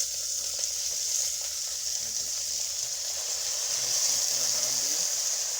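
Potatoes and eggplant (bhanta) cook in a pan as a sadhu prepares a vegetable curry without onion or garlic, giving a steady, fairly soft sizzle and frying hiss with faint background sounds.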